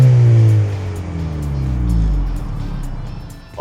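A 2025 Honda Civic Si pulls away and accelerates, its engine note climbing loudly through the revs, easing off as a gear is shifted, then rising again before a brief drop at the end.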